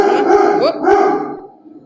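A dog barks several times close by, harsh, loud yaps arriving in a quick burst before trailing off.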